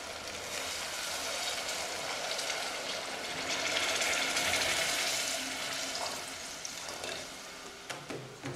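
Water poured into a boiling chicken tajine sauce with onion, a steady loud sizzle and bubbling hiss that swells midway and eases toward the end, with faint clinks of utensils.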